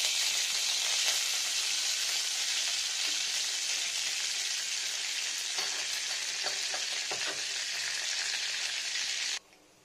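Nigella seeds dropped into hot pure mustard oil for a vegetarian ridge gourd dish, a loud, steady, close frying sizzle with a few light stirring taps, cutting off abruptly at the end.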